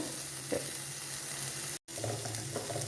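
Cooked noodles with pepper stir-frying in a pan, giving a steady sizzle under soft stirring scrapes, close by, with a very brief dropout partway through and no voices.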